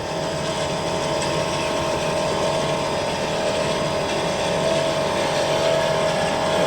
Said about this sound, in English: You can hear the engines breaking up, or the engine breaking up, trying to nurse her home